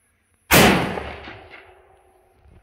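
A single 12-gauge shotgun blast with fine birdshot, fired outdoors during a 100-metre range test, opens with a sharp loud crack and then a long rolling echo that fades over about two seconds.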